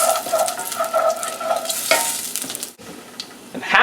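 Pepper and red pepper flakes are stirred through a hot sizzling pan for a Chicago-style deep dish, a loud close frying hiss with spoon scrapes and a brief pause near the end, no voices.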